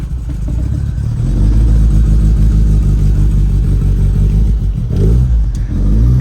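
A Lotus Elan engine running rich while warming up, a steady, loud, low rumbling idle close by with a slight lumpy pulse and a brief rise in revs near the end.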